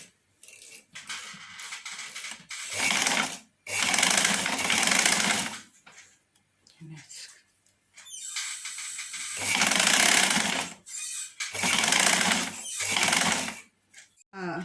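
Sewing machine stitching curtain fabric in bursts of fast, loud mechanical whirring, several runs of a few seconds each separated by pauses, with occasional faint handling clicks between them.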